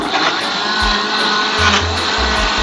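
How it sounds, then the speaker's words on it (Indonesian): A kitchen blender runs on a portable power station, whirring steadily and loudly with a constant motor drone and occasional low thumps throughout. "Sekarang kita coba blender ya."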